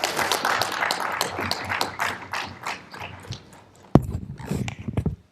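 Audience applause in a parliamentary plenary hall, a steady patter of many hands clapping that fades out, then a sharp burst of renewed clapping near the end, moderately loud and close.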